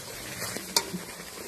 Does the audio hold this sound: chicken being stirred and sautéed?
yes